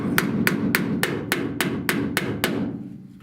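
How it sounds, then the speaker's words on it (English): Steady hammer blows on a dented inner rear wheel well panel of a 1970 Buick Wildcat, about ten evenly spaced ringing strikes over a low background hum, stopping near the end. "But I did just want to hammer this out some"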